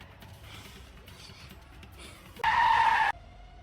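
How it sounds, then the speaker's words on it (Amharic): A sharp, loud tire screech cuts in for under a second over low engine rumble, then stops abruptly. "በመጨረሻ ቲና መኪና ገጭቷት ሞተች"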